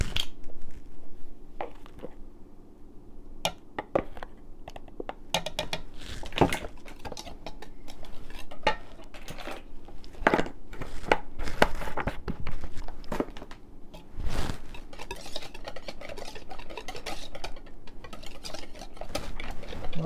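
Pumpkin oat bar batter with cinnamon being stirred and blended in a bowl, a steady run of scraping, knocking utensil strokes and scattered clinks throughout, fairly close and without talk.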